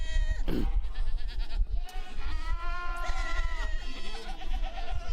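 Goats in a pen bleat loudly and close by, several overlapping calls with wavering, tremulous cries one after another over a low rumble, no talking.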